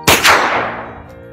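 A single loud gunshot sound effect from a Filipino radio drama, a sharp blast followed by a long fading ring and reverb tail, heard alone without any talk.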